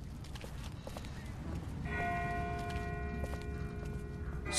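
A distant bell in The Walking Dead video game rings from about two seconds in, sustained and tonal, faint against a low ambient rumble and background movement.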